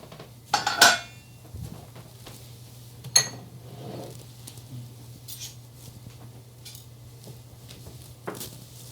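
A few sharp clinks and scrapes of a utensil against a bowl while mixing ingredients for gluten-free churros, close but sparse, separated by quiet stretches over a low steady kitchen hum.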